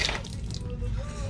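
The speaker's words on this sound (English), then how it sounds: "Turn on your water, come out here and lift this valve open" Water gushes out of an opened valve on an Outback Ulta-Lite camper's water heater, a short steady hissing splash that starts loud and settles into a continuous flow.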